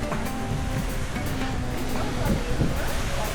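Water from a waterfall at a Barcelona fountain rushes continuously in a broad, steady wash, fairly loud and close, with faint voices in the background.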